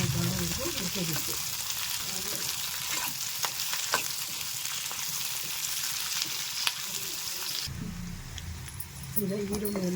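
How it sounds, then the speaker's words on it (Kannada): Onions and other ingredients fried and stirred in a pan for nati-style menthya bath, a dense close sizzle with repeated utensil scrapes, under a voice talking. "ಈಗ ಹುರಿಯೋಕೆ ಹಾಕಿರೋ ಪದಾರ್ಥಗಳನ್ನೆಲ್ಲ ನಾವು ಸ್ವಲ್ಪ ಈರುಳ್ಳಿ ಎಲ್ಲ ಚೆನ್ನಾಗಿ ಬಾಳೋವರೆಗೂ ಹುರ್ಕೋಬೇಕು"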